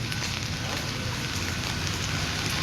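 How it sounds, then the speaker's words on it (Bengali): Steady hiss of rain falling, dense and continuous with no pauses or voices. "এখনও বাইরে বৃষ্টি পড়ছে"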